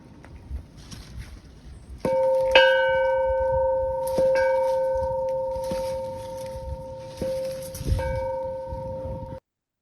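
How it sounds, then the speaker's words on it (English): An old church bell rings several times at a slow, uneven pace, each clear metallic strike ringing on and overlapping the last, close and fairly loud. "we had an opportunity to go and look at the bell and actually ring the bell"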